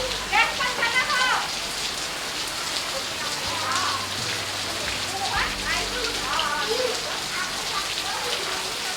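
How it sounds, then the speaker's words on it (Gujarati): Rain falls in strong, gusting wind outdoors near a river, a dense steady hiss of drops with wind rushing underneath, and people talk over it at times. "ભાઈ પવન હે ભેગો એટલે વરસાદની જે ઝીણી બૂંદો છે"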